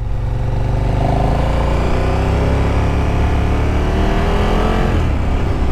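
A 2018 KTM Super Duke GT motorcycle pulls away in first gear, loud and close, its engine note climbing steadily as it accelerates over a constant roar of wind and exhaust.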